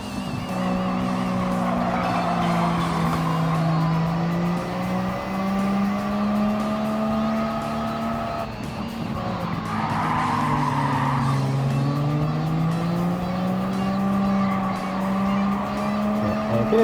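Race car engine in Gran Turismo 7 drones loudly and continuously with rising and falling pitch, while tire squeal and skidding run throughout; no talking.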